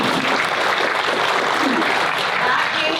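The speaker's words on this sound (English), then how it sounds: "So give yourself a round of applause." Audience at a drug awareness council event applauds steadily for about three seconds, a dense, even wash of many hands clapping at close range with faint voices mixed in.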